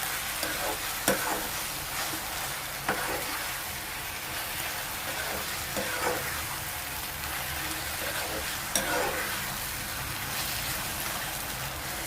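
Grated raw mango for tokku pickle frying in a pan while being stirred, a steady low sizzle with soft scraping stirs and a few sharper clinks throughout, no talking.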